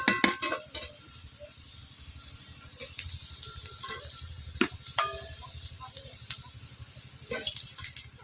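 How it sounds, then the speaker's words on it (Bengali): A quiet sizzle of frying runs underneath scattered scraping and clicking as carrots, potatoes and peas are stirred in a kadai. "ঢাকনা খুলে মাঝে মধ্যে ওগুলোকে আমি নেড়ে নিচ্ছি।"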